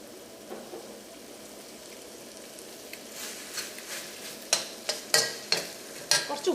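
Chicken curry is stirred in a pan, a faint bubbling simmer giving way to a series of sharp scraping strokes of a spoon against the metal, growing more frequent toward the end.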